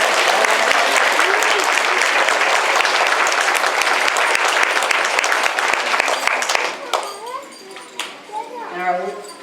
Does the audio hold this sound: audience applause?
yes